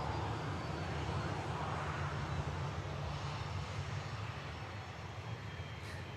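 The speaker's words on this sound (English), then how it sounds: "Next aircraft to touchdown, Air Transat in from Toronto. 6 hours and 22 minutes for this A321neo." An Air Transat Airbus A321neo arriving from Toronto lands at Manchester Airport, its jet engines giving a steady, fairly distant rumbling roar that slowly fades.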